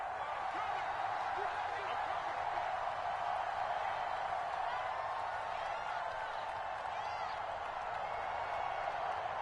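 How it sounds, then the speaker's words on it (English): A home crowd applauds in a Madden 22 football game between the Chiefs and Bills, a steady, dense wash of clapping and cheering holding evenly throughout without pause. "And the home crowd applauding"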